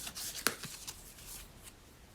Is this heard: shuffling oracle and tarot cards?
yes